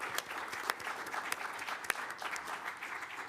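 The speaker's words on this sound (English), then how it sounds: "Let's give them another big round of applause." A round of applause for students at a city council meeting, moderately quiet clapping from a seated audience with a few sharper claps standing out, steady for the whole stretch.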